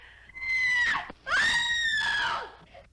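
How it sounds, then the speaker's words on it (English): A woman's high, wavering screams in a 1950s science-fiction horror film scene, two long loud cries separated by a brief gasp, close and alone with no talk. "The police heard the screams from across town."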